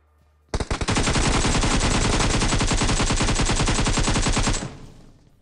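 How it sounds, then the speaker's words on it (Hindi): Sustained automatic gunfire from the mobile shooter Battlegrounds Mobile: a single loud, rapid burst of about four seconds with evenly spaced shots that stops abruptly. "अब इस पर मैं गोलियाँ चलाता हूँ"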